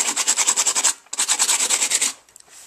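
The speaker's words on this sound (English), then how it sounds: "So grab some sandpaper and just start scrubbing off some paint." Sandpaper scrubs paint off a glass mason jar in two bursts of quick, rhythmic back-and-forth strokes, loud and close, with a short pause between them and a few faint taps at the end.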